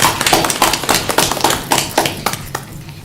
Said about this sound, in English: they do deserve a clap